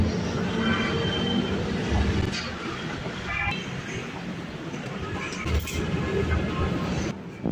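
Orange Line metro train near Thokar station, a steady loud rumble of wheels and machinery filling the scene, with a few brief squeals and clanks over the continuous roar.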